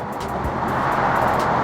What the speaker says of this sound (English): Nothing like a twin turbo powered V8